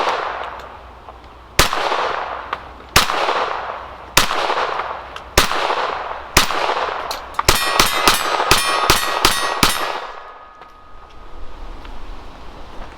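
Rimfire pistol shots ring steel targets, starting with an 8-inch plate: sharp cracks with bright ringing clangs, five spaced hits, then a rapid string of about six quick shots and rings, loud and near.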